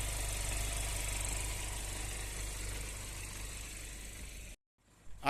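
A Hyundai Venue SX 2020 diesel car engine idles with a steady, close rumble for several seconds, then cuts off abruptly into silence before a short noisy burst.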